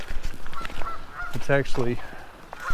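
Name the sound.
geese honking by a stream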